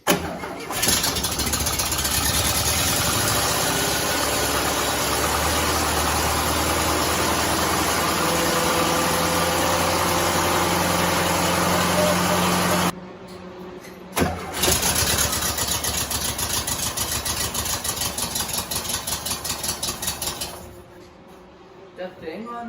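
A 1972 VW Westfalia engine cranks and catches, running loud and steady for about twelve seconds before cutting out, then briefly restarting and idling with uneven pulses; people talk faintly over it.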